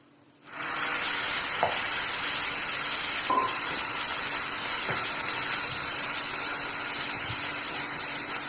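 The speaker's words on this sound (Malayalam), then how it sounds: "കുറച്ച് വെള്ളം ഒഴിച്ചു കൊടുക്കാം." Water hits a hot pan of vermicelli upma and sets off a sudden, loud, hissing sizzle that holds steady for several seconds. Faint clicks sit under the hiss and no one speaks.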